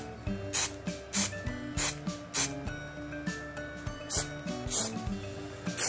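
Short hissing bursts from an aerosol can of 3M high strength contact adhesive repeat about eight times in an uneven rhythm, close and fairly loud.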